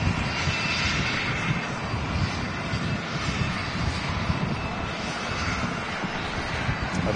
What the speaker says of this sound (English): just grabbing this A320neo arriving from Pegasus